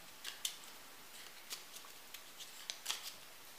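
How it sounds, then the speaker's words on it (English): Star sign cards being shuffled by hand, a quiet run of soft riffling flicks and taps at close range, without any speech. "So I'm going to shuffle them first of all,"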